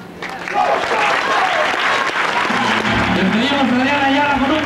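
A rodeo crowd breaks into loud, sustained applause after a short quieter lead-in, with a voice speaking over the clapping toward the end.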